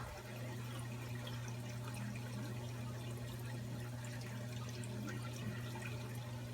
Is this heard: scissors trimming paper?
no